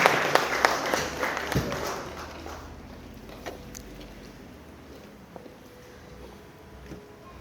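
Wedding guests clap in a brief burst of applause that fades quickly into a quieter room, leaving scattered small knocks and creaks.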